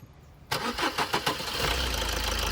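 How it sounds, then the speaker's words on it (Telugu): A 2016 Maruti Baleno Alpha diesel car starts on a single crank, a short burst of starter cranks catching into a steady, close diesel idle. "ఇప్పుడైతే మీకు ఒకసారి ఇంజన్ స్టార్ట్ చేసి చూపిస్తాను"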